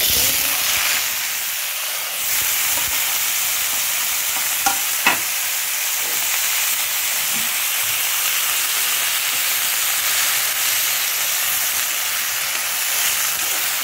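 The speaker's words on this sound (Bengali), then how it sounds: "এখন একটু মরিচ, একটু লেবুর রস আর একটু লবণ দিয়ে মাখাইয়ে আমি একটু হালকা তেলে দিয়ে নিব" Okra frying lightly in a little oil in a pan, seasoned with chili, lemon juice and salt; a steady bright sizzle and hiss runs throughout with a few small pops and spatters, close and continuous, with no talking.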